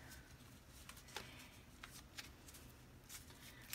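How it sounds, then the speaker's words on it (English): Heart-shaped cards are shuffled quietly at close range, giving soft irregular riffles and flicks with small taps, faint and uneven throughout. "I love these cards, but they're so hard to shuffle."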